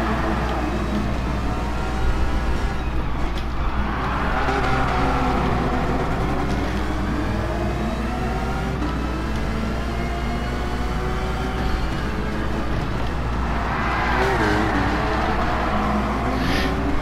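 A race car drifting in Gran Turismo Sport: a steady, loud engine drone with rising and falling revs and tyre noise throughout, sustained without pause.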